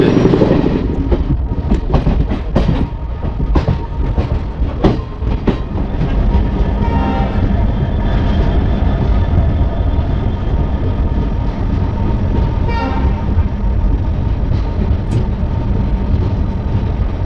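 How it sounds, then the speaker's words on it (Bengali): The Teesta Torsa Express races along at about 110 km/h near the Ganga crossing. A loud, continuous rumble of wheels and carriages fills the interior, with scattered rail clacks and a faint whistle-like tone partway through. "110 দারুণ স্পিডে টানছে আমাদের তিস্তা তোরসা এক্সপ্রেস"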